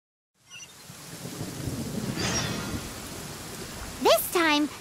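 Rain falls in Genshin Impact: a steady hiss of rain swells in, with a low thunder rumble under it, and a few short rising and falling game chimes near the end; no speech.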